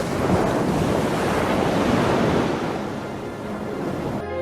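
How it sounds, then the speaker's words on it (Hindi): Ocean waves break on open sea in a steady, loud wash of surf with wind rumbling over the microphone, holding strong throughout and easing slightly toward the end. "समुद्र, सुंदर नीला समुद्र"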